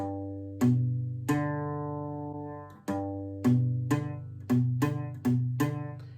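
An acoustic guitar is strummed in separate chords, about six strokes with pauses between, each ringing out; some strums sound slightly choked where fretting fingers lean back and touch a neighboring string, deadening it.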